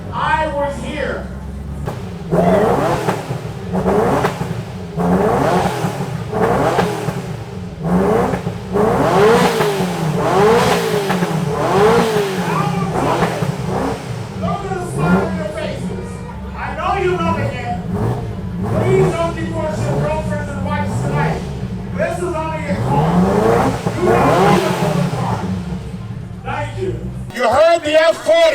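A Ferrari F40 supercar revs repeatedly at an indoor supercar gathering, sharp climbing blips rising and falling in a steady series, loud and nearby, with people talking over the engine throughout.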